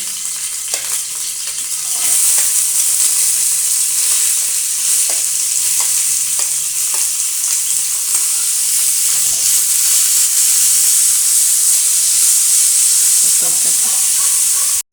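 Onion, carrot and tomato fry in a pan for pasta, giving a loud, continuous sizzle and hiss with occasional stirring scrapes, close and steady throughout.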